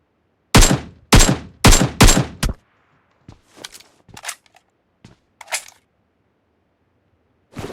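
Gunfire in PUBG Mobile: a rapid burst of four loud, close shots, followed by scattered fainter single taps and clicks, then one last crack after a pause.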